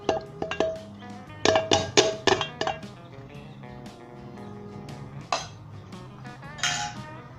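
Boiled macaroni is tipped into a bowl and stirred, giving a cluster of sharp clinks and knocks of a utensil against dishware, with scattered softer taps and a final burst of clatter.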